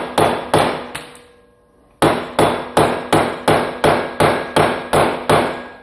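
Sharp metallic hammer blows drive an axle into the front wheel hub of a Yamaha Big Bear 350 ATV, about a dozen evenly spaced ringing strikes close up with a short pause after the first three.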